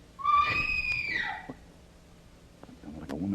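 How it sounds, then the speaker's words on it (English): A woman's high, drawn-out scream rises and falls for about a second and a half, fairly loud and echoing, followed by quieter rustling and faint low voices. "That sounded like a woman scream."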